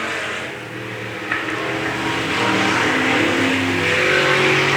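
A race car engine revs hard and builds steadily as the car accelerates out of turn four at Bakersfield Speedway during a heat race, a loud sustained droning roar with other engine noise around it.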